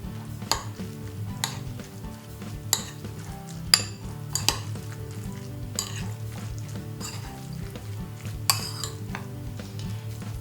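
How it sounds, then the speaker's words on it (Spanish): A spoon stirs beet tartare seasoned with pepper and salt in a bowl, wet squelching strokes punctuated by sharp, regular clinks of metal against the dish, fairly close and steady, with no voices. "una pizca de pimienta y sal. y mezclamos bien"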